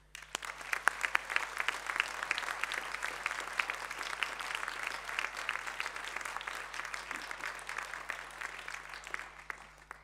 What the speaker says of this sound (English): a round of applause for the families and friends